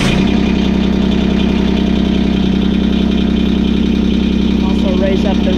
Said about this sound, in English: I'm gonna start it up and let it idle for a second to warm up the oil.